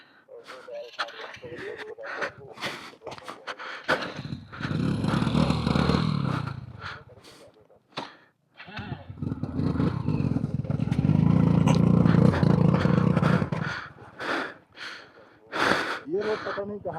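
A motorcycle is pushed uphill on a rough, slushy mountain trail between Pangong and Hanle, with long engine revving swells, gravel clatter and scraping, while several people talk and strain throughout.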